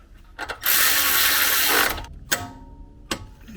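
Ratchet wrench tightening a tie rod bolt to 41 foot-pounds on a Tesla, heard as a few short clicking bursts and one sustained rasping run, close and fairly loud with no talking.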